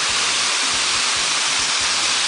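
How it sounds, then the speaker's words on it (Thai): A waterfall pours onto rocks with a loud, constant rushing roar and a deep churning rumble underneath. "เสียงของน้ำตกกระทบกับโขดหินนะครับ เสียงดังทีเดียว"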